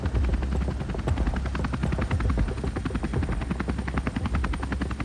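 A rescue helicopter hovers and then moves back and away from a ship's deck at sea, its rotor chop pulsing in a rapid, steady rhythm as a loud, continuous drone with no speech.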